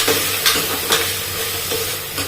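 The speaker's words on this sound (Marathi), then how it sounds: "मग ही स्वच्छ धुतलेली डाळ टाकायची परतवून द्यायची परतवून चांगली" Washed lentils sautéing with cumin in a pan, a steady close sizzle with soft periodic stirring scrapes of the spoon; no talking.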